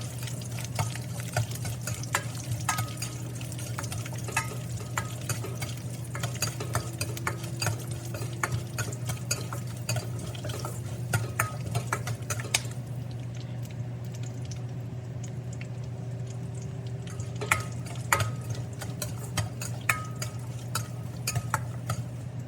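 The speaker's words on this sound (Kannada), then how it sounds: "ಕಡಲೆಬೇಳೆ ಸ್ವಲ್ಪ ಕರಿಬೇವು ಎಲ್ಲ ಎಣ್ಣೆ ಒಳಗೆ ಫ್ರೈ ಆಗಬೇಕು" Chana dal and curry leaves frying in hot oil, a steady sizzle with frequent stirring clicks and scrapes of a spoon against the pan, close and continuous with no talking.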